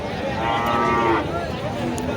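A bull lets out one clear, drawn-out moo at a crowded Qurbani cattle market near the Hili border, heard over a constant hubbub of the surrounding crowd.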